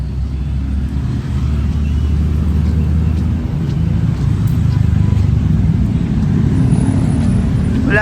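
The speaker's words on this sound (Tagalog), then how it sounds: "Grabe mga sasakyan dito. Ang dami oh, medyo traffic pero hindi naman gaano." Heavy road traffic with many cars and other vehicles crawling past nearby: a loud, continuous low rumble of engines fills the whole stretch, steady with slight swells, and no talk over it.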